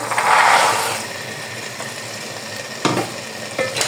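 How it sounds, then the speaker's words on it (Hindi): Potatoes and green chickpeas fry in a hot pan while being stirred, giving a steady close sizzle broken by scraping stirs and a few sharper clatters near the end. "ग्रीन चनों को भी हमने आलू के साथ अच्छी तरह फ्राई कर लिया"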